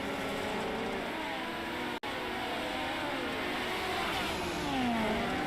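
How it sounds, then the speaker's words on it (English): A dirt track race car engine revs and drops as the throttle is worked, loud and continuous, its pitch rising and falling while the car slides, with a brief dropout partway through. "You can hear him working the throttle, car sliding all over the place."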